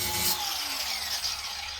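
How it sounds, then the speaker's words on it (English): An angle grinder nibbling at the edge of a plywood sheet, shaping it: a continuous high whine with a gritty, rasping grind, steady and fairly close, with no one speaking. "just nibbling away with my grinder, just to get the shape, following the shape of the plywood"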